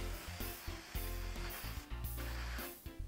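Tack 2000 spray adhesive hisses from a can onto a fresh leaf in short repeated bursts, close and fairly quiet, with brief pauses between sprays.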